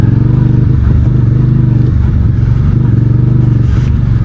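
A 2026 VOGE CU625 AMT motorcycle engine pulling in second gear makes a loud, close, throbbing drone with rapid pulsing and slight rises in pitch, heard alone.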